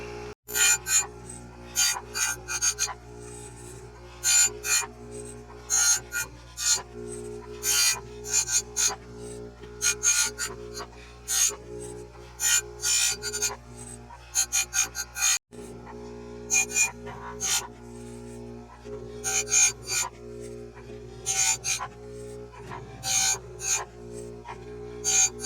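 An Oregon 620-120 chain grinder with a CBN wheel sharpens chainsaw chain teeth, giving a steady train of short, bright grinding bursts in quick regular succession, with a low motor hum running continuously beneath.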